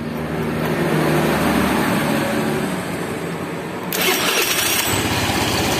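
A Honda Beat FI scooter turning over on its electric starter, a steady whirring crank that rises into a brighter, rougher burst near the end, close and loud with no talking.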